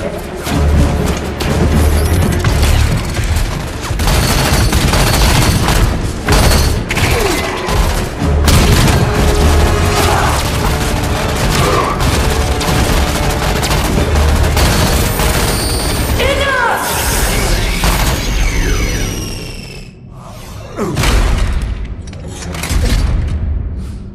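Heavy gunfire and booming explosions from a Halo 5 Guardians battle, loud and nearly continuous with rapid bursts and crashes, a voice briefly heard amid the combat before the barrage thins near the end.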